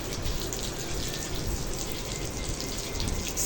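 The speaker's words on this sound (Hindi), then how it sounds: "मैंने कहा इधर से पानी मार दी," Water splashes across a floor during washing in a steady, continuous rushing spray, fairly close, with no talking heard.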